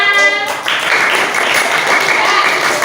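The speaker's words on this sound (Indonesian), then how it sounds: "Kalau tepuk tangan untuk kelompok 5." Classroom applause for a student group in a math lesson, a loud, steady burst of clapping from pupils filling the whole moment, preceded by a brief tonal sound.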